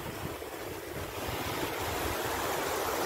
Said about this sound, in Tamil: அது கடல் அடிக்க போது அந்த ஓசை வருது